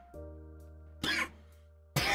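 Two short, harsh coughs sound close up about a second apart over a quiet electronic hum.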